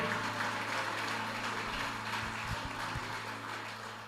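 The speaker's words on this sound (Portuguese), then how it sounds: "vamos aplaudir ao nome do Senhor Jesus" A church congregation at a Baptist service applauds together, a steady, dense wash of clapping that holds at an even level for several seconds before easing slightly toward the end.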